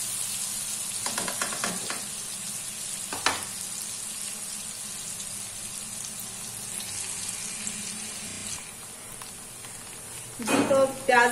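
Onions and cinnamon fry in a pan with a steady, moderate sizzle, broken by occasional clinks and scrapes of stirring and a louder clatter at the end, recorded up close.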